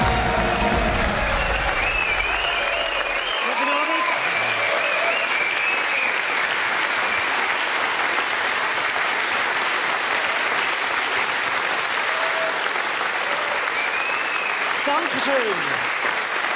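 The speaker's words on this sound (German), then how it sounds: "Schönen Applaus." Studio audience applauding steadily at a television show, a broad, continuous wash of clapping, with a voice speaking briefly over it near the start and again toward the end.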